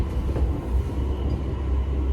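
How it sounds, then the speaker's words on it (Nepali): Commuter train ride in Saitama, Japan: a steady low rumble of the moving carriage fills the whole stretch, even and continuous with no voices over it. "अब चाहिँ हामी ट्रेनमा जान्छौँ क्या।"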